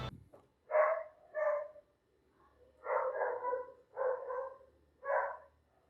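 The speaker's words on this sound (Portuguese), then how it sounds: "Cachorro." A dog barks in five distinct bursts: two close together, a pause, then three more, each clear and close against a quiet background.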